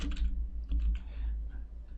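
Someone types on a computer keyboard in a Windows 10 search bar, producing a short burst of soft, close key clicks in quick uneven succession for about two seconds, with no voices.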